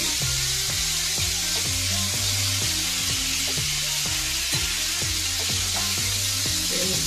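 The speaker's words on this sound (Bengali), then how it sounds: "তো এখন মাছগুলোকে ভেজে নিচ্ছি।" Pieces of rohu fish frying in hot oil, a continuous bright sizzle heard up close beneath a rhythmic background melody.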